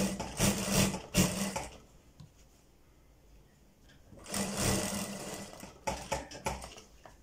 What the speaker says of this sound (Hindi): ये देखें मैंने सिलाई लगा ली पूरी ऑल राउंड।